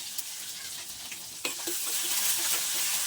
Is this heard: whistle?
no